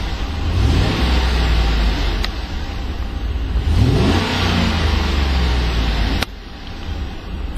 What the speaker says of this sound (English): And let's see what that Vortec sounds like.